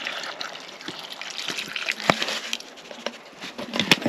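Water trickling and splashing into a pot of vegetables at a woodland campsite, with a few louder drips and clinks, close and fairly quiet.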